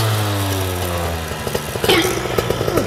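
A motorcycle engine revs hard at close range, a loud droning roar that drops away after about a second, followed by clattering mechanical noise.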